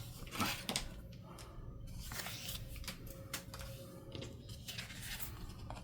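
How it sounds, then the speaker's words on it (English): Scissors snip through cardboard for junk journaling in a series of sharp, close crunching cuts, irregular in rhythm, quiet overall. "I'm just going to use my scissors"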